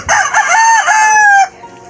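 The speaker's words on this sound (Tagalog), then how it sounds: "Ito po yung mga manok na inaalagaan natin dito" A loud, close rooster crow rings out in one long drawn-out call, then cuts off, leaving faint clucking and farmyard noise behind.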